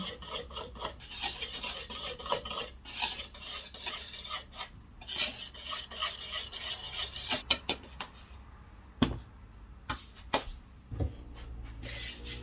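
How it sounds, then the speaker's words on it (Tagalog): Baking powder being whisked into flour in a bowl for a cake, a steady rasping, rubbing stir with close, fairly loud scrapes that thin into sparser strokes toward the end, no voices. "maglagay ng 1 teaspoon baking powder dyan sa flour. Haluin."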